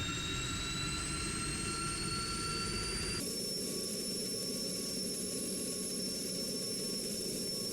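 A Gloster Meteor jet in the Strike Fighters 2 flight game roars steadily on its takeoff roll, a dense engine rumble with rising turbine whine and a sudden shift in tone partway through, loud and continuous.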